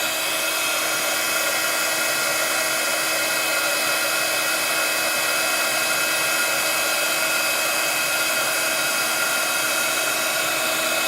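A heat tool blasts a craft piece from underneath with a steady, loud broadband whoosh like a hair dryer, continuous and unchanging throughout with no talk.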